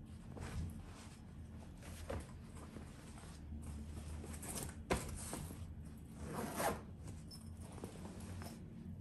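A zipper on a fabric storage bag being pulled, several quick rasping zips with softer fabric handling between them, quiet and close, with no talking.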